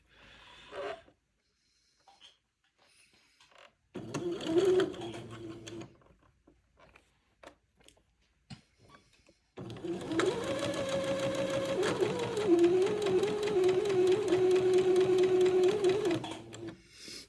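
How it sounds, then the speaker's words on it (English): A sewing machine stitches entredot lace onto batiste fabric, starting with short bursts and then running steadily and fairly loud for several seconds with a clear mechanical whir. "I'm going to sew the entredot to the batiste, taking my pins out as I come to them."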